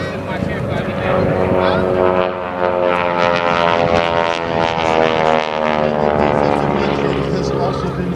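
Biplane stunt plane at an air show, its propeller engine droning loudly and steadily through aerobatic maneuvers, pitch rising and falling, while an announcer talks over the loudspeaker.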